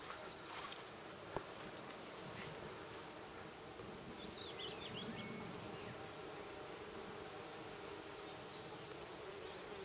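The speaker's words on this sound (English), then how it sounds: "Bees and wasps and all kinds of insects." Bees and wasps buzz around plants in a permaculture garden, a faint, steady, continuous hum with soft insect drones and no talk.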